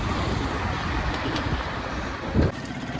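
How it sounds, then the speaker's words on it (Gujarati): A steady broadband rush of fresh water flowing beside a road near Hastgiri, Palitana fills the scene, continuous and fairly loud, with a brief louder splash or gust near the end. "કેવું પાણી જાય છે."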